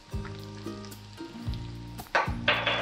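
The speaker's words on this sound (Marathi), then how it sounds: "लसूण चांगला तांबूस रंगावर झाला की त्याच्यात आपण मिरची" Green chilies tossed into garlic browning in hot oil in a pan, bringing a sudden loud burst of sizzling after a few close stirring scrapes.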